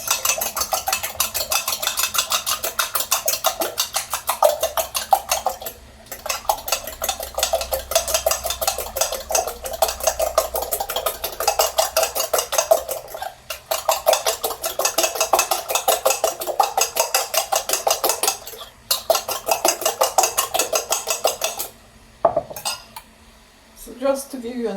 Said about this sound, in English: And beat the eggs.